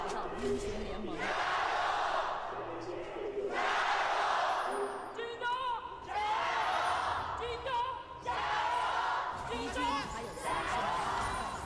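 A large esports arena crowd at an LPL League of Legends match roars in waves of rhythmic chanting and cheering, loud and sustained, with commentators talking over it.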